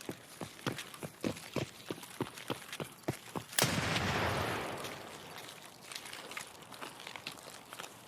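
Gunfire in the game Escape From Tarkov, with a rapid run of evenly spaced sharp shots followed by a louder burst and a rushing wash of noise, then sparser pops at a distance.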